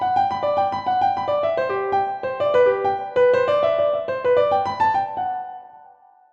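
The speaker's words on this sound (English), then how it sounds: "If you played it slurred, it would sound like this." A piano plays a Bach jig with slurred, legato phrasing, running melodic notes flowing smoothly into one another over a steady lower line. The tone is close and bright, and the last note rings out and fades with no speech.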